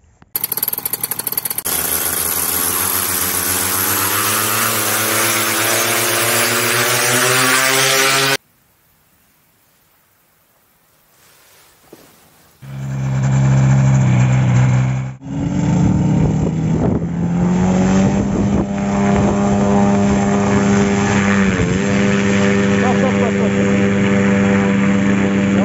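A skybike engine with a loss of thrust drones loudly on a short flight in mid-November, then falls silent for a few seconds before restarting and running on in a steady, rising roar.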